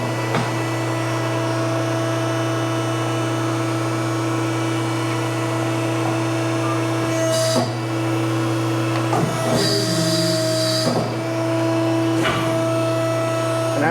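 Hydraulic tube bender pulling the tenth and final bend on a long-wheelbase 1961 Ford F100 4x4 part, a steady loud machine hum with a constant tone, with brief clanks and a hiss near the middle.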